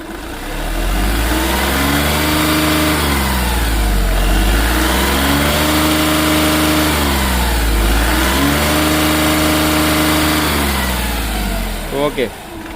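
A 2014 Volkswagen Polo diesel engine revs up and down repeatedly, rising and falling in pitch three times before settling, loud and close, with no talking.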